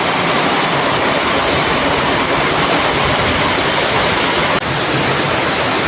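Heavy rush of floodwater pouring through a drainage path beside a house during rain, a loud steady broadband roar that continues without a break.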